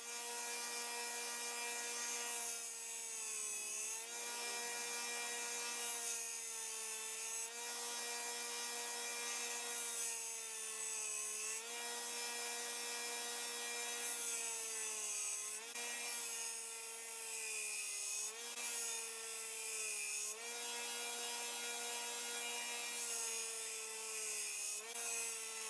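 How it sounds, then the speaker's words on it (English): Steady grinding of bevels into a knife blade made from an old saw blade, a continuous abrasive whine with sustained tonal ringing that shifts slightly in pitch as the steel is pressed and lifted, loud and close throughout without talk. "And now I'm grinding in the bevels."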